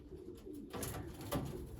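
Pigeons in a young backyard flock cooing softly, a few faint low murmuring coos close by against quiet background.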